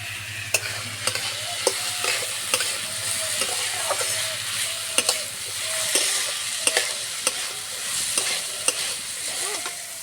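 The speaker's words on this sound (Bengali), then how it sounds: "আলু আর গাজর খুব ভালো করে ভেজে নেব" Potato and carrot pieces frying in a pan while a spatula stirs them, a continuous sizzle broken by regular sharp scraping clicks against the pan, close and fairly loud, no voices.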